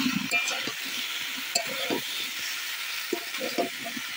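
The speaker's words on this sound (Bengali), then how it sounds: "মশলার সঙ্গে কিন্তু এঁচোড় আর আলুটাকেও একটু সময় ধরে কষিয়ে নিতে হবে" Jackfruit and potato cooking with spices in a pan, a soft continuous sizzle under intermittent scraping and stirring knocks from a utensil, fairly quiet overall.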